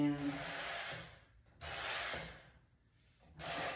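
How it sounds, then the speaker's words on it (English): Light sandpaper strokes rub along wood with the grain in three separate soft, raspy passes, fairly close and quiet, with short pauses between them. "Just lightly sand over, going with the grain, not against the grain"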